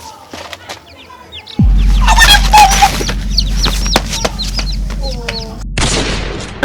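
Live chicken clucking and squawking at close range, with scattered short calls over a steady low rumble and a brief burst of flapping near the end.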